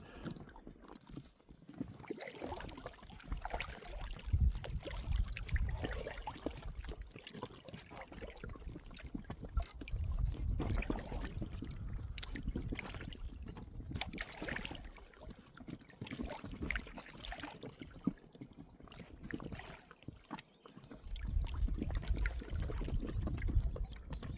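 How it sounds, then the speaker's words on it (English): Water sloshing and lapping gently against a kayak's hull, a soft continuous splashing close by with no voices. "It's like the splashing of the waves under the boat."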